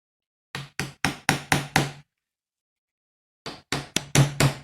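Hammer blows drive a nail head below the surface of a scorched wooden mantelpiece: a run of five sharp, evenly spaced knocks, a pause of over a second, then five more, close and loud with nothing else around them.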